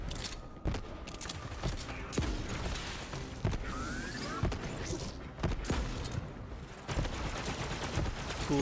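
Gunshots from weapons in a video game, sharp reports landing about once a second in a steady, evenly spaced rhythm over a dense, noisy game background.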